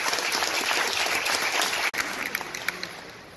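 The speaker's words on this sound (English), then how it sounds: "Give them all a big round of applause." Conference audience at a multicultural event breaks into a dense, sustained round of applause, fairly close and even, with a brief dip near the middle before the clapping continues and thins slightly.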